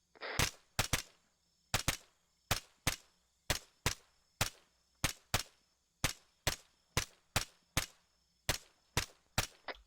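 Gunfire in a military video game, aimed at an enemy carrying an RPG: about eighteen sharp, loud single shots at a steady, almost metronomic pace, each with a short echo, with no talking.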